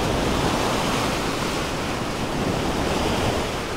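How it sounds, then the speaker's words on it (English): Ocean surf and churning water at a beach with a rip current make a steady, close, full-bodied wash of noise, with wind on the microphone and no voices. "So much moving water."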